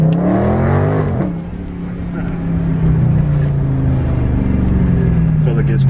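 Dodge Charger Scat Pack in track mode accelerating hard, its engine droning loud and steady with a rising pitch and a quick shift midway, heard from inside the cabin under a passenger's talk.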